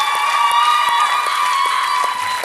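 Audience applause with cheering after a successful rescue on a Slovenian TV variety show, a steady dense wash of clapping and crowd noise throughout.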